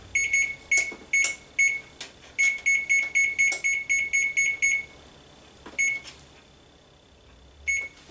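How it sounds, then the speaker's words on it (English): A kitchen oven timer being set gives a series of short, sharp electronic beeps in quick bursts and single presses, loud and close, with pauses between groups. "I'm just going to go ahead and set the timer here for 20 minutes."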